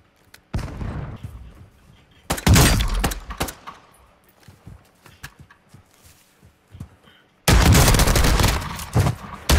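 Shotgun blasts in a multiplayer shooter video game, two loud broadband bursts with sharp transients, the second after a gap of scattered quieter clicks and rattles, close and punchy with no talk over them.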